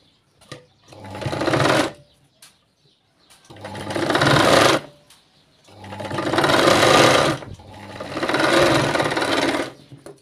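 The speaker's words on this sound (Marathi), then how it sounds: "उलट बाजूने एक टीप मारून घ्यायची आहे." Stitching a katori blouse seam, a sewing machine whirs in four loud bursts of rapid needle chatter, each a couple of seconds long, separated by short quiet pauses.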